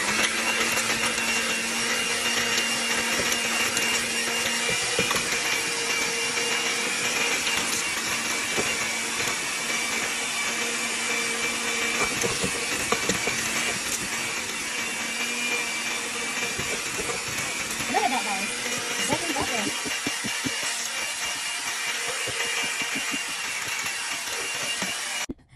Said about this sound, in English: let's blend it again